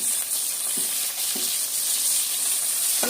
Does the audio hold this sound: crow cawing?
no